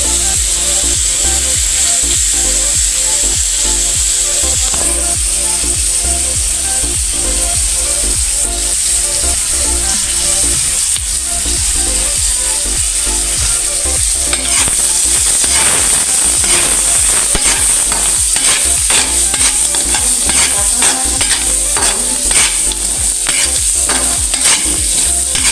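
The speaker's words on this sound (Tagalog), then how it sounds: "Lagyan natin ng bawang," Garlic sizzles loudly in a frying pan, a continuous bright crackle broken by scraping strokes of stirring that grow more frequent toward the end, up close with no talk.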